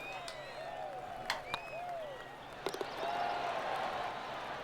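A golf video game crowd in PGA 2K21 reacts with gasps and scattered murmurs, fairly faint and distant, with a few sharp clicks and a swelling rumble of reaction near the end.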